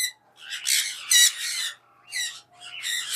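A caique parrot gives several loud, harsh squawks in short bursts separated by brief pauses, close by in a quiet room.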